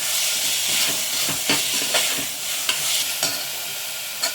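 Chopped tomatoes and salt being stirred and fried in a pan for a chicken kurma, with a steady sizzle and hiss and repeated close scraping strokes of a spoon.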